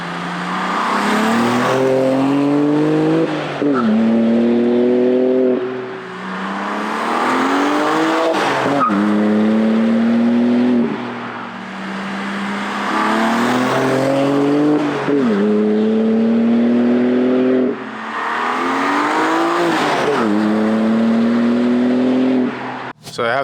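A BMW M2 with its exhaust valves fully open, set to Sport Plus, revs repeatedly: four loud, rising engine climbs that each hold, then drop off and pause before the next rev, close and aggressive.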